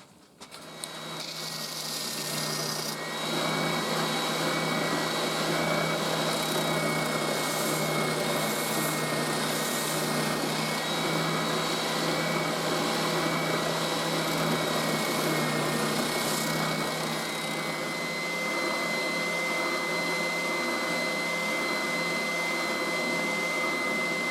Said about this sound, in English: let's get this cut off at the bandsaw